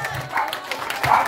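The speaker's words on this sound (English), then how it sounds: "ladies and gentlemen, please give Ari a round of applause" Audience clapping at an outdoor chilli eating contest at a festival, a short burst of applause and cheering from a crowd, fairly close.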